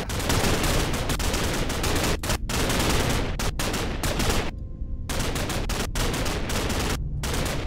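Machine gun fire in a Minecraft zombie apocalypse battle, loud and near, in long sustained bursts broken by a few brief pauses, with no talking.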